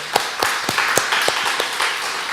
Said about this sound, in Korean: 우리 하나님께 영광의 박수 한번 올릴까요?